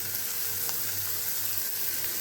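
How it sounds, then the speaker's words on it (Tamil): Chopped green chillies and curry leaves crackle and sizzle in hot oil with browned frying lentils, a steady close sizzle with faint popping and no talk. "இதில் நான் வந்து பொடியாக நறுக்கி வச்சுருக்கிற பச்சை மிளகாயும் கருவேப்பிலையும் போடுறேன்."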